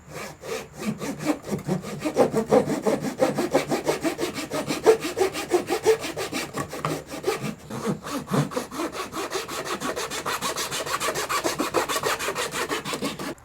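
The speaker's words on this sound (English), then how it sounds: "Fretboard slotted." Hand saw cutting fret slots across a wooden electric guitar fretboard, a steady rapid back-and-forth rasp of strokes continuing close up and alone for the whole stretch, with a brief pause midway.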